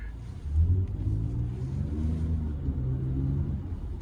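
A 2021 Lexus RX350 F Sport with a 3.5-liter V6 accelerates, its engine rising into a steady mid-pitched drone with a swell of revs early on, heard from inside the cabin.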